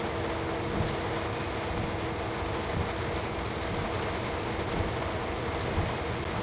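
Steady, continuous rumble of a train rolling along the track in Train Sim World 5, with a constant low drone and faint wheel noise and no pauses.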